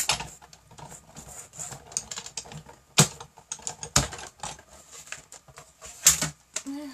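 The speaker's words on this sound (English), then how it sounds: "Let's die cut the rose." A die cut machine pressing a rose shape out of paper gives a few sharp, loud clunks and cranking clicks spaced over several seconds, close by, with no talking.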